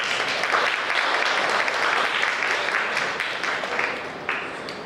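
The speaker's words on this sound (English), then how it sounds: "A big clap for the teachers" Sustained applause from a crowd at an inclusion and accessibility convention, steady and full for several seconds before easing slightly at the end, with no voices over it.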